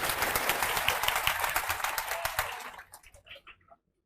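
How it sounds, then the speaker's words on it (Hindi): An audience applauds loudly for Pramod Yadav, a Bihar excise sub-inspector, at an academy event. The dense, steady clapping from many hands tapers off into a few scattered last claps. "तो एक बार प्रमोद यादव जी के लिए जोर से ताली बजाइए सब लोग"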